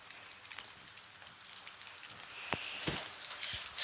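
Rain falls outdoors, quietly pattering throughout, with a few louder close drips and splats building toward the end and no voices.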